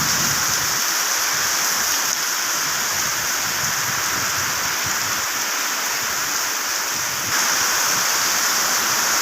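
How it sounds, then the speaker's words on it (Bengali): Heavy rain pouring down in Maijdee, Noakhali, a dense, constant hiss of falling water that stays loud and unbroken throughout, with no voices. "দেখেন দর্শক কীভাবে পানি পড়ে আজকে অতিরিক্ত বৃষ্টি"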